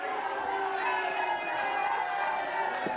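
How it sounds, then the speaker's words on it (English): A wrestling crowd at the Chase boos and barks as Bulldog Bob Brown enters the ring, a dense, steady roar of many voices that fills the whole stretch at close range. "The crowd is noisy, and that's normal when Bulldog Bob Brown gets into a ring. A lot of barking, a lot of booing"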